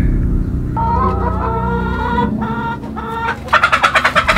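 Farm chickens clucking up close and loudly, with drawn-out tonal calls and then a rapid rhythmic run of clucks at the end.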